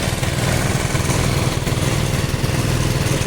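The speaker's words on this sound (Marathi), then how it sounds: "ही एक मशीन इकडच्या साईडने हा आणि इकडनं वरच्या साईडला जे पाणी मारतात" An engine-driven water spraying machine runs in an orchard, giving a loud, steady mechanical drone with a constant throbbing low rumble throughout, with no pauses.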